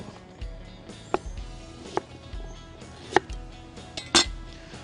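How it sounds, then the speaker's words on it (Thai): Crisp knife strokes slicing young ginger thinly on a cutting board, a few sharp taps spaced about a second apart, close by with faint clinking in the background. "ถ้าเราหั่นเป็นบางๆแบบนี้"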